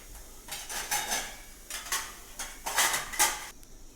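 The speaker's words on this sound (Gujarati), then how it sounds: "જો આપણે ગેસ ઉપર મૂકી દીધી છે કઢાઈ હવે આપણામાં ભાખરી શેકી લઈશું" Methi bhakhri flatbreads set into a hot kadhai on a gas stove to roast, heard as a run of clattering metal knocks and scrapes in irregular bursts, close and moderately loud with no talking.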